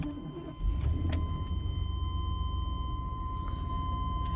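A 1998 Chevrolet Tahoe 4x4 lifted truck cranks briefly and its engine catches about half a second in, settling into a steady, close, low idle rumble with no talking.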